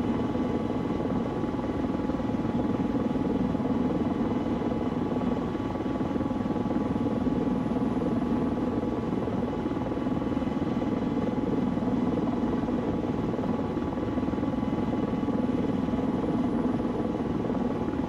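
A helicopter gunship in a military video game holds a steady, loud rotor-and-engine drone throughout, with no breaks and no voices.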